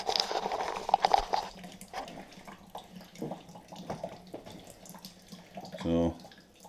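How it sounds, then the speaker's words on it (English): Sparge water runs onto the grain bed of a beer mash with a steady trickle and splash, close and moderately quiet, broken by brief clinks and handling noises and ending in a short gurgling burst. "this is beginning the sparge."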